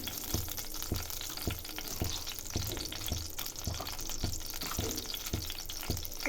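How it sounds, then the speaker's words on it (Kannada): Mustard seeds, cumin and chana dal fry in hot oil with a constant sizzle, punctuated by regular sharp pops or stirring taps about twice a second, close by and fairly quiet. "ಕಡಲೆಬೇಳೆ ಸ್ವಲ್ಪ ಇದನ್ನೆಲ್ಲ ಫ್ರೈ ಮಾಡ್ಕೊಳ್ಳೋಣ"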